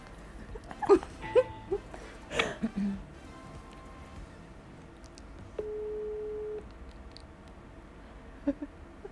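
A single steady electronic telephone ringing tone of an outgoing call sounds for about a second over low background rumble, with a few brief knocks and bumps around it.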